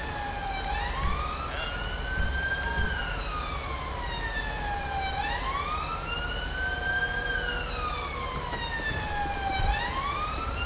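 A police car siren wails in GTA 5 with a UK police simulator mod. The siren rises and falls in long, steady sweeps, loud and continuous, with faint engine noise underneath and no voices.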